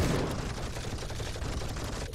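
Rapid gunfire from the Call to Arms video game crackles in a dense, continuous fusillade, loud and close throughout the short burst with no pauses between shots.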